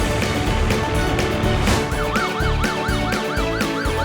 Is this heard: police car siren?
yes